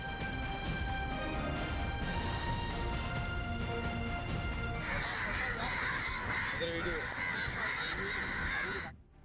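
Harsh crow caws repeat loudly, close by, over a busy, noisy background; a voice is also present.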